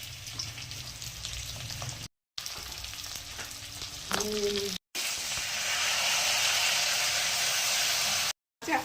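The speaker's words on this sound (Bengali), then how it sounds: "একটা পেঁয়াজ কেটে রেখেছিলাম দিয়ে দিলাম, একটু লাল লাল করে ভাজা হবে পেঁয়াজটা।" Chopped onion sizzles and fries in a hot pan, a steady close hiss broken by brief silences, with a clink of stirring and the crackle rising louder toward the end.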